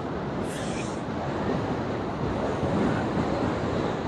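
Steady wind roars and buffets the microphone outdoors while a fighter kite is flown, a continuous loud rushing with no voices.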